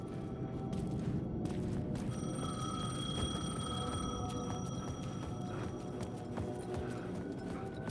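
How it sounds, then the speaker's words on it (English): A payphone in the video game Alan Wake rings with a steady, tinny electronic bell tone, sustained and fairly close, over a low background rumble and clatter, with no talk. "payphone was ringing"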